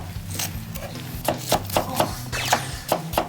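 A knife chops vegetables into small pieces on a cutting board, giving a quick run of sharp, close knocks in an uneven rhythm over a low background murmur.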